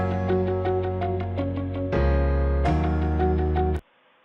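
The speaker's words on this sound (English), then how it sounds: "I just added some inspirational music while the student reads this dialogue." Inspirational background music for an e-learning scenario plays as layered sustained instrumental chords with a light rhythmic pulse, swelling once midway and then stopping abruptly near the end.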